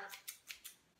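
Craft scissors snip through hair at home, trimming the ends into a V shape: four quick, crisp, close cuts in a steady rhythm, soft and with no talk.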